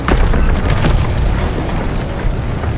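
A tank cannon fires in Call of Duty: WW2, a loud booming blast with dense low rumble that carries on as a sustained roar through the whole stretch, with no speech.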